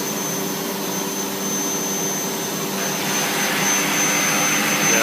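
A CNC machine cuts a profile into material in small passes, producing a steady loud whirring drone with a constant high tone that swells slightly in loudness as the cut continues.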